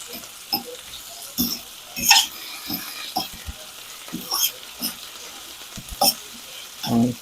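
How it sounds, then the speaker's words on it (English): Chopped vegetables softening in a pan on the stove, with a soft sizzle beneath intermittent clinks and scrapes of a fork stirring, all fairly quiet. "Now let this all start to simmer away."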